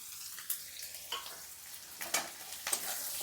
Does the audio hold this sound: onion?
yes